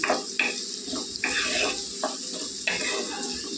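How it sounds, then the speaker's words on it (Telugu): Onions sizzle and fry in a pan for a tomato curry, a steady close crackle broken by repeated scrapes of a spoon stirring them, with no talking. "ఉల్లిపల్లి వేగనిద్దామండి"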